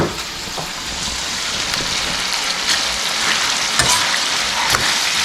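Tahong mussels cooking in a pan for a Bicol-style dish at a family fiesta gathering in Batangas, giving a steady, close sizzling crackle with scattered sharper pops and no talking.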